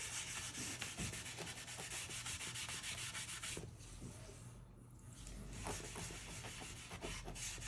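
A rag rubs wood stain across a board in steady, close scrubbing strokes, continuous and soft with brief rhythmic swipes.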